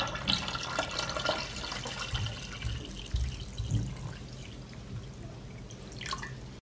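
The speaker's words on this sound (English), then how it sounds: "I pour cold water up to the height of the pot cover." Cold water poured into a pot holding glass jars set on a cloth, a steady watery trickle with dripping and splashing, fairly close and moderately loud, no talking.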